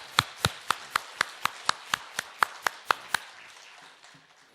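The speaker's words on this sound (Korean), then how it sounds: "잠깐 일어나 주시면 우리 박수로 격려하겠습니다." A church congregation claps together in unison, about thirteen crisp, evenly spaced claps in a steady rhythm that stop abruptly, heard in an indoor hall with no talking.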